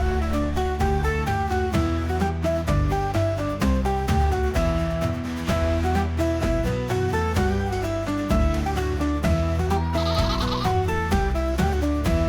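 Sheep bleat in a dense, overlapping chorus on the Faroe Islands, many animals calling steadily and fairly loud throughout with no pauses.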